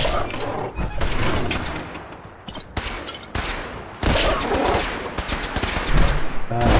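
Loud, chaotic gunfire in Fallout 4, with rapid volleys, heavy thumps and overlapping shots in a firefight, a voice briefly speaking amid the noise.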